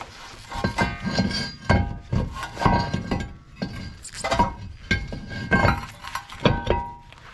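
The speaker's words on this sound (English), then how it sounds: "Put the brake disc back on." Brake disc put back onto the hub of a 2018 Subaru Outback, a close series of metallic clinks, knocks and scrapes at an irregular rhythm, no talking.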